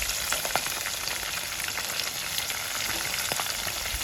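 Sliced onions fry with momone in a pan, a loud, dense crackling sizzle that runs continuously and evenly throughout.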